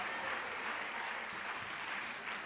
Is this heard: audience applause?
yes